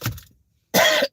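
Two coughs, a short husky one and then a louder, harsher throat-clearing cough after a brief silence, close to the listener.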